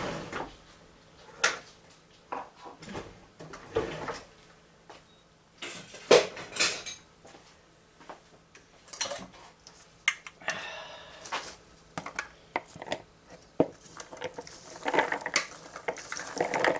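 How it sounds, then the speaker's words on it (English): Parboiled potatoes mixed into chopped corned beef for canned hash, with a spoon scraping and clanking against a bowl in scattered knocks and clatters, some sharp, over a quiet background. "So I'm going to start mixing the potatoes in."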